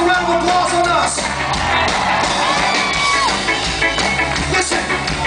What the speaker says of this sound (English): Give yourselves a round of applause on us.